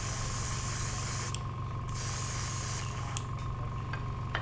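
An airbrush sprays a coat of Scale75 paint in steady close hissing bursts, starting and stopping a few times over a constant low hum.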